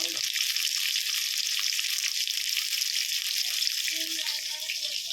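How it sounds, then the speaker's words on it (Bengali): Fish fries in a hot pan of oil with a steady, loud, close sizzle that runs throughout, with a few faint kitchen noises in the background. "এই কটা মাছ ভাজতে দিয়েছি"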